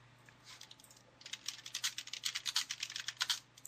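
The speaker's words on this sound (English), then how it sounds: "Or are you just now typing that to one of your friends?" Quick, irregular clatter of computer keyboard keys, faint at first, then a busier burst of rapid keystrokes over a low steady hum, with no voices.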